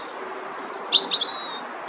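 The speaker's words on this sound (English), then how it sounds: "So I can hear other birds singing as well at the same time" Birds chirp and tweet in short bright calls over a steady outdoor hiss on a canal-side walk in Halesowen, UK, with a couple of sharper notes standing out.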